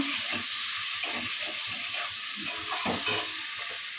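Spiced potatoes sautéing in a pan, with a bright continuous sizzle broken by repeated scraping and stirring strokes of a spatula at an irregular rhythm, close and fairly loud.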